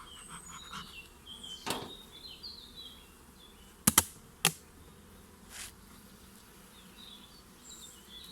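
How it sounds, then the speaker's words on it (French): Honeybees at an opened hive during a queen-laying check, giving a faint, steady low hum with several sharp knocks and clicks from handling the frames. "les abeilles sont un peu nerveuses."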